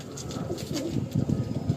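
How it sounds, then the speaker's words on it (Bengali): Kalanka high-flying pigeons coo in soft, low, repeated throaty phrases, close by and fairly quiet, with no voices over them. "এই একটা সেট দেখুন, কালাঙ্কা সেট।"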